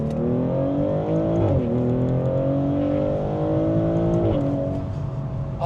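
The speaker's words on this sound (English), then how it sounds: "let the people hear the upshifts" A 2025 Maserati GranTurismo with an 8-speed ZF torque-converter automatic pulls hard, its engine note climbing steadily and dropping sharply at two quick upshifts, loud and continuous from inside the car with no talk.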